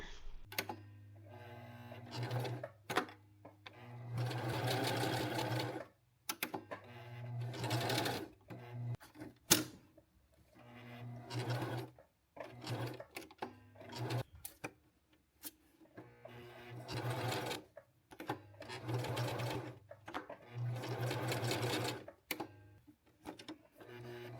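A sewing machine stitches along a fabric edge in a string of fast mechanical rattling bursts. Short pauses break up the runs, which sound close and steady with no voices.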